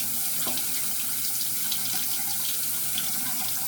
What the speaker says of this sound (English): I'll let it under this hot water for